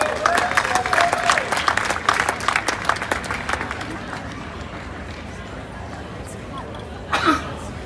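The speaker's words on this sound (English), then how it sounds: "Round of applause." An audience at the Australian Olympic and Paralympic team's welcome home celebration in Perth breaks into dense applause for a few seconds, which then fades into quiet crowd murmur and a brief cough.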